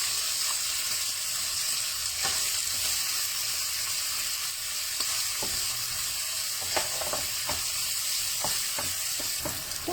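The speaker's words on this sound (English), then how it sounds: "And then we throw in the dry chili. Fry together. And then we add some garlic." Dry chili and garlic fry with pork belly in a pan, a steady loud sizzle running throughout, with scattered stirring clicks and scrapes in the later half and no talking.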